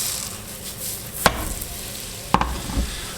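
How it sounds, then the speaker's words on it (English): Cheese powder and butter stirred together in a pan, soft scraping with a few sharper knocks of the utensil against the pan, close and fairly quiet. "I usually mix the powder and the butter first"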